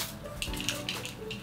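A few quick hisses of a fine mist spray, close and soft, with bursts of airy spray sound over a gentle background.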